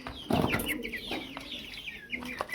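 Backyard chickens kept in a battery cage cluck steadily and close by, with soft overlapping calls and a few sharper squawks over a low background hum.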